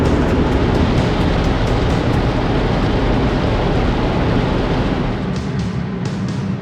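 Loud, continuous roaring wash of water jets and machinery in an automatic car wash cleaning an electric car, a dense rushing spray that fills the space with a few faint ticking sounds near the start.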